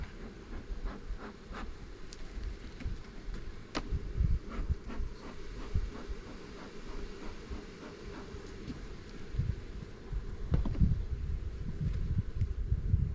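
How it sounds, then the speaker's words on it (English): Honeybees buzz in a five-frame cell builder hive during spring queen rearing, a quiet continuous hum with scattered closer passes and faint clicks and knocks of handling hive equipment, no voices. "try to get these bees down out of here a little bit."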